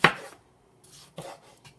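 Sharp kitchen knife chopping produce on a cutting board while preparing vegan bruschetta, a loud crisp cut at the start, then a few softer scraping chops and a final light tap, close by with no talking.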